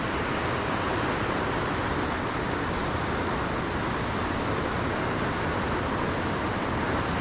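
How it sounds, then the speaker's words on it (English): Fast stream running down through a forest clearing and splashing over rocks into white water rapids, a dense, constant rushing wash of water with no pauses and no voices. "There's another stream running down really, really fast. It's splashing off the rock down there."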